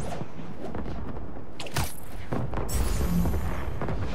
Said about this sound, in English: Fireworks! Better warn those guys they're illegal here without a permit before someone calls the cops on them.